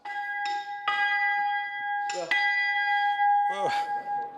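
A small church bell of about 12 to 15 pounds rings with a sustained metallic tone while it is knocked and handled, producing a few clanks and struck notes, with people talking nearby.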